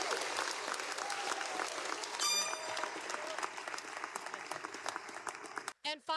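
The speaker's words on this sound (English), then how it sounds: "So if I could just get one more applause for all of our cadre." A graduation audience applauds the cadre at a recruit graduation ceremony, sustained dense clapping with scattered voices and a brief whistle-like tone, ending abruptly.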